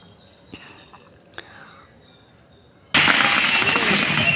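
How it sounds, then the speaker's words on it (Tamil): Firecrackers burst at night during a roadside Christmas celebration, a few faint sharp cracks early on, then a sudden loud, dense crackling barrage that continues steadily. "பட்டாசு வெடித்து கொண்டாடிட்டுருக்குறாங்க."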